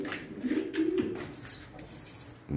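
A racing pigeon coos in a low, repeated warble, close and fairly clear, at a loft on loading night before a 37 km first toss, with faint chirps and rustling around it.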